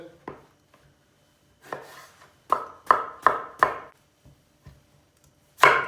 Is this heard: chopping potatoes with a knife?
yes